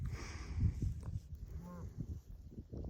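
A single low cow moo sounds in the middle, fairly distant and faint, over a background of outdoor rumble and shuffling.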